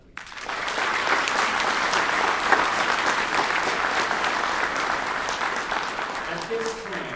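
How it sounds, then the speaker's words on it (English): A school choir concert audience claps steadily and loudly, a dense, sustained round of applause that holds evenly from start to finish with a few scattered cheers mixed in. "One more round of applause for them, please."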